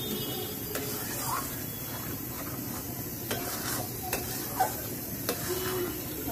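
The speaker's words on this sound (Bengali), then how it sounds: "লবণ, দিয়ে এটা একটুখানি নেড়ে নেব।" Stirring a milk paneer dish seasoned with chili and salt in a pan over a gas flame, with a steady soft scraping and faint sizzle and a few light clicks, close and alone.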